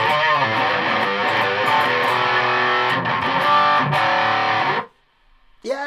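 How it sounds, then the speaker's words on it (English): Loud, heavily distorted electric guitar chords through a Yamaha Magicstomp classic distortion effect ring out, then cut off abruptly near the end before a brief return. "Classic distortion."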